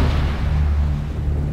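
A building blown apart by an explosive charge in the Arma 3 video game, heard as a sustained, heavy low rumble that stays loud and dense for the whole moment with no talking.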